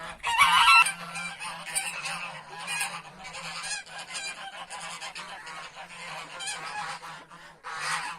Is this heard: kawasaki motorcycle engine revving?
no